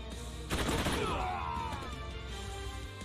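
Gunfire in the tactical game Troubleshooter: Abandoned Children: one sharp burst of shots at about half a second, ringing out and fading over a steady music bed.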